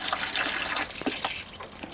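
Water runs and splashes while a bucket is rinsed out before chicken feed is mixed, a steady close gush with small sloshing bursts and no one speaking.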